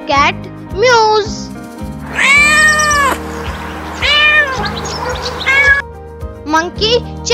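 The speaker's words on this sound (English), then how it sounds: "Cat mews." A cat meows several times in drawn-out, wavering cries, loud and close, with short pauses between them and a steady low hum underneath.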